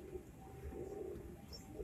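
Kasuri pigeons cooing on a rooftop, soft low repeated coos over a faint steady background hum, fairly quiet and close with no talking.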